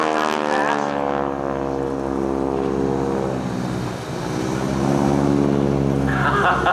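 A North American T-6 aircraft at an air show, its radial engine and propeller giving a loud, throaty drone with a steady harmonic growl that dips briefly and then swells back up, close by.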